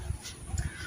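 A crow-like bird gives a short caw or two nearby, fairly faint, among free-flying tame birds.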